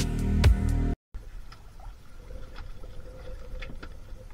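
A brief loud burst, then low rumbling water and engine-like noise from a boat moving on water at night during spearfishing near Lapu-Lapu, Philippines, with faint knocks and splashes.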